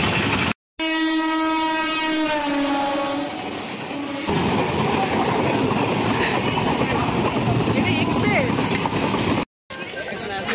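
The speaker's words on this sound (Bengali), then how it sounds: "তো আমাদের লাইনের ট্রেন ঢুকে গেছে।" A local passenger train pulls into a station, opening with a loud, sustained horn blast that gives way to a heavy, close rumble of rolling carriages, with crowd noise and voices underneath.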